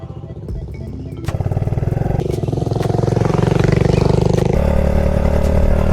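A 125cc motorcycle engine runs close by, idling with a rough putter before revving up into a louder, steady drone.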